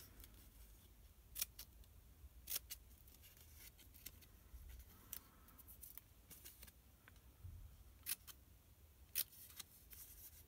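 Scissors snip through cardboard for a handmade gift box, giving sparse, crisp cuts at irregular intervals over a quiet background with faint handling noise.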